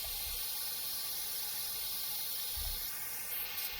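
Steady, fairly faint hiss of a steam locomotive's air pump in a Train Simulator Classic session on an old Colorado and Southern engine, running continuously without talk.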